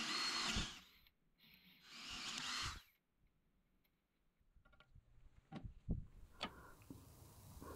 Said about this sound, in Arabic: وهذه ريشة حفر خشب عادية 10 ملي